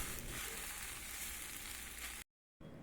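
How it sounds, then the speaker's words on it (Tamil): Boiled macaroni mixed into sautéed vegetables in a pan for cheese white sauce pasta gives a dense, steady sizzle and frying hiss, cut off abruptly near the end by a short silence before resuming faintly. "மக்ரோனி சேர்த்து நன்றாக மிக்ஸ் பண்ணிக்கோங்க."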